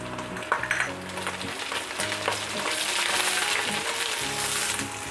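Half a sliced onion sizzles loudly in hot oil in a frying pan while paksiw na bangus with liempo is cooked, giving a dense, steady crackling hiss that swells as the pieces are stirred, heard close with no talk.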